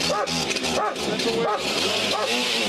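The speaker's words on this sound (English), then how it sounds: "There are attack dogs here." Police attack dogs bark repeatedly in rhythmic bursts during an RCMP raid on sovereign Wet'suwet'en land, loud and close amid shouting voices.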